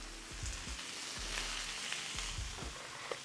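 Cabbage and onions stir-frying with pork belly for yakisoba, a steady close sizzle broken by periodic scraping and tossing strokes of the spatula, with no voices.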